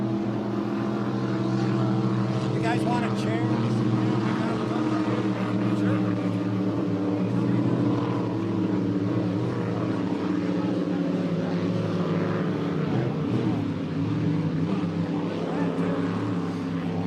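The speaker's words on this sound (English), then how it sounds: "let these fans along the shoreline hear the thunder of the 468 cubic inch engines" Steady, loud engine roar from hydroplane racing boats with 468 cubic inch engines at the APBA Gold Cup, with people chatting nearby on the shoreline over the continuous drone.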